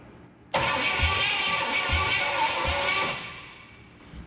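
A 1970 Pontiac LeMans engine, once stuck, cranks on the starter during a dry compression test with the carburetor held wide open, giving a loud steady whir with a rhythmic pulse of compression strokes for about two and a half seconds before winding down.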